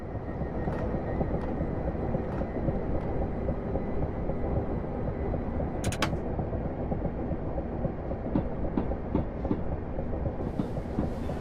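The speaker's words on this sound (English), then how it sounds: "using the Train Simulator Classic program." A train in the Train Simulator Classic video game rumbles steadily along the track between Watford Junction and Watford High Street with a continuous low roar, faint clicks and rattles over the rails, with no voices.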